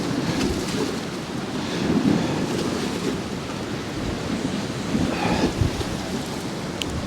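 Strong storm wind roars steadily across Poole Harbour during Storm Bert, a loud, rough buffeting with gusts swelling and easing, and no voices.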